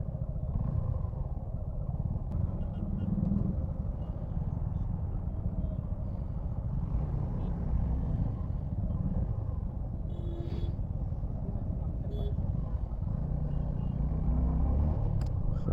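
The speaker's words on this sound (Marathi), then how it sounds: "साला संडेची ट्रॅफिक ना परेशान करून टाकते" Dense Sunday road traffic heard from a Suzuki V-Strom 250 motorcycle ride: a steady, loud, low rumble of cars and motorbikes that runs without a break, with no speech.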